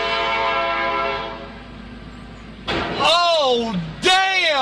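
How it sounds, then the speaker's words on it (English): A train passes at a road crossing while its horn blares in long, loud blasts, with a heavy crash-like burst between them and people exclaiming nearby. "There goes the train."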